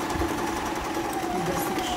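Sewing machine running a steady reverse stitch along a small fabric purse, a close, continuous whirring hum with a constant motor tone throughout, no talk.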